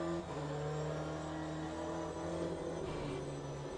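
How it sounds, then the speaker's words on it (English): Racing car under hard braking in high gear in the Le Mans Ultimate sim game, a steady loud engine drone and whir with tire noise, sustained without pauses. "I'll just slam the brake in a high gear, so we're only hearing the tires."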